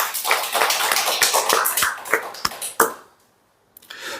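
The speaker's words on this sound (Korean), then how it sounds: "하나님께 영광의 박수 올려드립니다" A church congregation claps in a steady round of applause that thins out and stops, followed by a short silence and a few faint sounds at the end.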